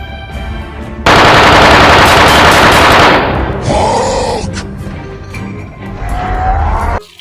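A loud electronic toy gun machine-gun rattle fires for about two seconds, followed by toy sound effects: a warbling tone and a fading electronic whine.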